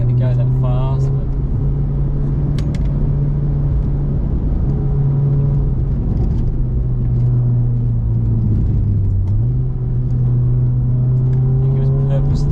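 Volkswagen MK7 GTI driving downhill, a steady low engine drone and road rumble throughout with a slight dip in pitch near the end, close and continuous under faint background sounds.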